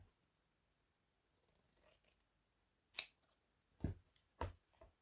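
Scissors snip through fabric to trim its corners, giving a few sharp, close, isolated cuts in a quiet room, with faint rustling of the cloth between them.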